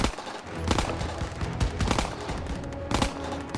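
Dense gunfire from a Call of Duty: WWII battle, with rapid overlapping rifle and machine-gun bursts close by and sharp cracks punctuating a steady barrage.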